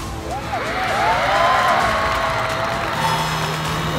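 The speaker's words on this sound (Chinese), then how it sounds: "鼓掌" Studio audience applauds at a televised band competition show, a dense, steady wash of clapping with scattered whoops and cheers throughout.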